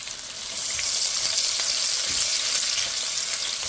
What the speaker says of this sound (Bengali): মাছ ভাজার তেলটা আমি এই পাতিলে নিয়ে নিয়েছি। এখন পেঁয়াজটা দিয়ে দেবো।